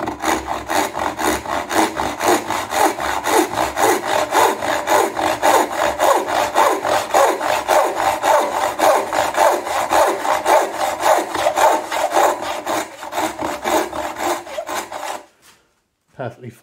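A new dovetail hand saw cuts wood joinery held low in a vise, giving steady, rapid back-and-forth rasping strokes that run loud and close for about fifteen seconds before stopping abruptly.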